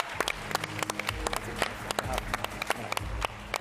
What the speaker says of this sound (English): one more round of applause for Origami Labs, our wildcard startup